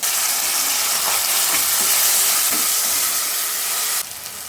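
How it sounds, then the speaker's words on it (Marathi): Tomato goes into onions sautéing in a pan, a loud, close, steady hissing sizzle with faint stirring that drops sharply in level just before the end. "आता कांदा परतत आला आहे त्यात टोमॅटो टाकते"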